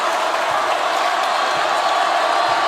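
A college basketball crowd roars in a steady, dense wash of cheering after a basket, sustained and loud throughout with no clear breaks.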